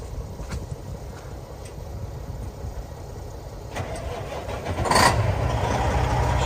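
A 2009 Freightliner Columbia 120 truck engine cranks and fires, a low rumbling diesel that catches with a burst near the end and settles into a heavier idle.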